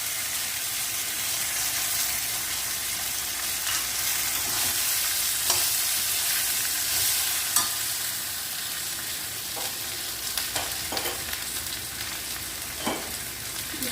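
Sundal is stir-fried with grated coconut in a pan under a steady close sizzle. Scattered clicks and scrapes of stirring come and go throughout.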